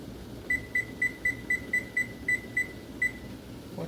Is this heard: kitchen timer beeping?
yes